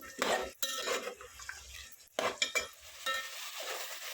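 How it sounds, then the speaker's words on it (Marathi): Potatoes and carrots with green chilli tossed in oil in a pan for a veg biryani, with irregular bursts of spoon scraping and clinking against the pan over a faint, quiet sizzle. "गाजर, एकसारखं परतून घ्यायचं आहे."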